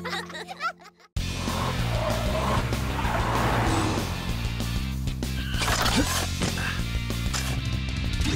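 Cartoon cars drive past and skid through a snowy street scene, with a steady engine roar, repeated tire squeals and skids, and bits of cartoon voices over the din.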